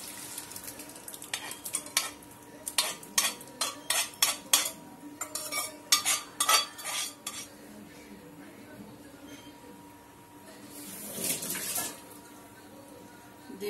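A spoon repeatedly scrapes and clinks through a pan as boiled dal is stirred into frying spices, a quick burst of metallic strokes, then quieter sizzling and a later short scraping flurry.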